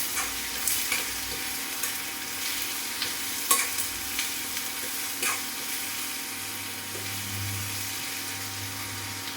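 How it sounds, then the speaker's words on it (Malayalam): Curry leaves sautéing in a pan for a mushroom curry, giving a steady soft sizzle with occasional light stirring scrapes, close and fairly quiet with no talk. "2-3 വേപ്പില ഇട്ട് കൊടുക്കുന്നു. രണ്ടും കൂടെ നന്നായിട്ടൊന്ന് വഴറ്റിയെടുക്കാം."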